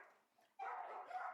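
Dogs at a dog pound bark and yelp faintly in the distance, a thin, muffled burst of overlapping barking that rises abruptly after a quiet moment and continues briefly.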